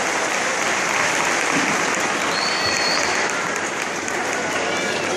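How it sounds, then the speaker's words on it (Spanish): A church congregation at a Bolivian revival service applauds loudly, a dense continuous wash of clapping and crowd noise that holds steady throughout. "Fuertes los aplausos"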